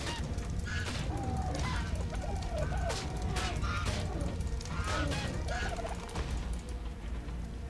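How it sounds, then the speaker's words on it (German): A bird in the video game ARK Survival Evolved squawks and gobbles in a rapid run of harsh, honking calls, loud and close over a dense, constant game soundscape. "Das ist ein komischer Hardcore-Vogel"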